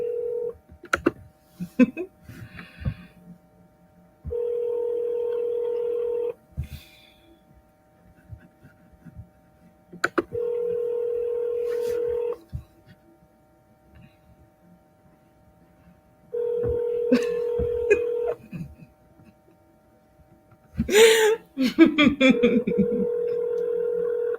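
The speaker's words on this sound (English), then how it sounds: "Okay, so we calling Shantae now" Touch-tone telephone keypad dialing to place a call: steady tone bursts at about 4, 10 and 16 seconds, with scattered clicks and key beeps between them and a louder burst of noise near 21 seconds.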